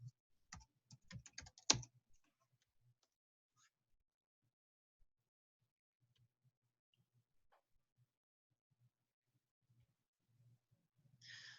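A computer keyboard and mouse click in a brief close burst of taps near the start, then scattered faint clicks over a quiet room, with another soft rattle of keys at the end.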